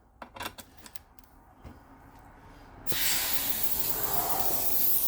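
Air hose coupling to a Vevor 6 ton air jack: after a few faint clicks and handling sounds, a loud, steady broadband hiss of escaping air starts abruptly and continues without a break.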